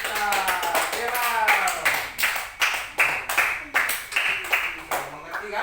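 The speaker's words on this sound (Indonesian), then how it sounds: "tepuk tangan semua buat kita" A small group of young students in a classroom claps together in a quick, rhythmic unison pattern, bursts of sharp claps with brief voices mixed in close by.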